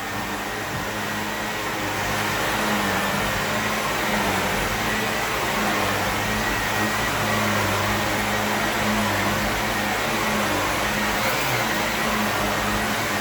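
An upright carpet vacuum cleaner runs steadily with its rollers engaged, a loud continuous motor whine and brush hum that swells slightly after the first two seconds and holds for the rest, with no talking.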